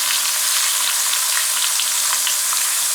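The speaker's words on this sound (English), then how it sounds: "I'm just gonna brown this on both sides." Meat, trimmed of fat, browns in a hot frying pan with a steady, close, loud sizzle and faint crackle throughout, and no voices.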